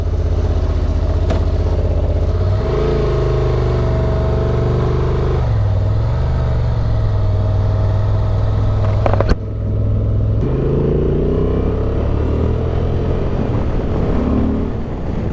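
A 2023 Honda XL750 Transalp motorcycle hums steadily as it rides, its engine note climbing and dropping through gear changes over constant wind rush, loud and continuous for about fifteen seconds.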